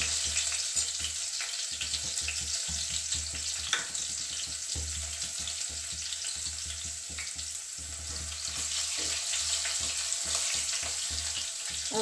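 Finely chopped green chillies and asafoetida frying in hot oil, a steady close-up crackling sizzle that carries on evenly throughout with no talking.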